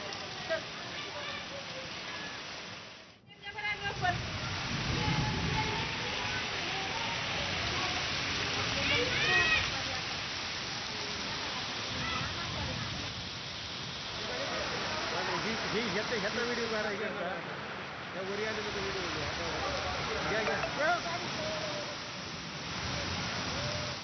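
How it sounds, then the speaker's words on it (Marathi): Steady heavy monsoon rain pours down on Latur city in a dense, continuous hiss, with a voice speaking over it throughout. "लातूरमध्ये 13 दिवस झाले दररोज पाऊस पडतोय, मात्र आज पावसाने शहराला अक्षरशः धुवून काढलंय"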